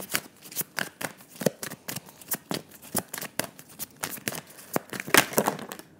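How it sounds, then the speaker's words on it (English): Tarot cards are shuffled in a steady, crisp riffling rhythm, close and clear, with a few sharper snaps toward the end. "I'm going to keep shuffling until I just get one"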